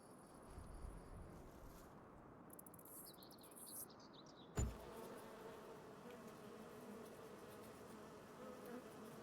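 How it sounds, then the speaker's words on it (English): Bees buzz around beehives in Farming Simulator 25. The faint, steady drone continues throughout, with light bird-like chirps over it and a single brief knock partway through. "bees"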